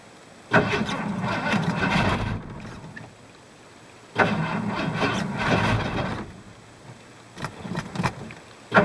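Engine of a 1985 Ford plow truck cranking on a cold start attempt with a weak battery, two long grinding bursts of starter churning separated by pauses, then a shorter uneven crank at the end, close and loud, no catch.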